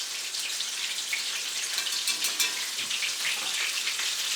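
Chicken deep frying in hot oil in a shallow pan for chicken and waffles, a steady dense crackling sizzle with fine popping that holds close and even throughout, with no talking.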